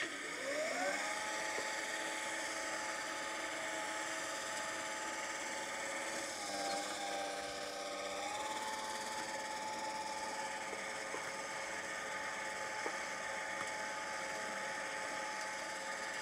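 A repaired Swardman lawn mower spindle with new ball bearings and bottom blade runs steadily, a continuous close mechanical hum with a faint whine that shifts pitch midway and then holds even, with no voices.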